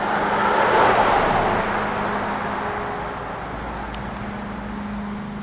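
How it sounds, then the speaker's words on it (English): A car approaches and passes along Elwood Street in Brighton, a steady broadband road rush that swells early and fades slowly, with a faint background hum and no speech. "There's a car coming."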